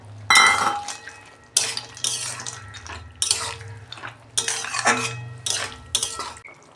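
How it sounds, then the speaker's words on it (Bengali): Fried lentil dumplings are stirred into bottle gourd cooking in a pot, heard as a series of loud metallic scrapes and clatters of a spoon against the vessel in separate bursts with short pauses between, close up with no speech. "এই যে আমি বড়িটা দিয়ে দিচ্ছি"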